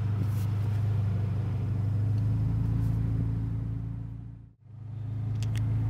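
A Scion FR-S / Subaru BRZ running on an E85 ethanol blend through a flex fuel kit gives a steady low engine rumble, close and continuous, briefly dipping out near the end before resuming.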